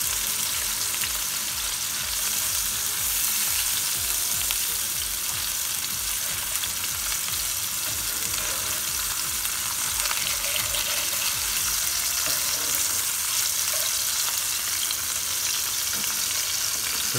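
Constant loud sizzling of cod fillets frying in a pan for an Indian fish Florentine, a dense, even crackle that runs unbroken throughout with no talking.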